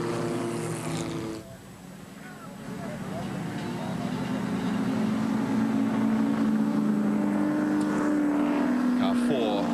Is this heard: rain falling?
no